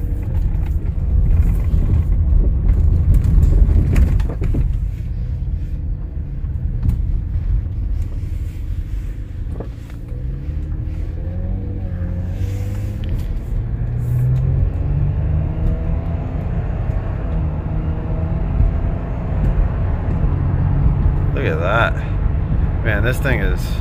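Interior of a 2007 Toyota Camry 3.5L driving, with a steady low engine and road rumble throughout and a person talking over it.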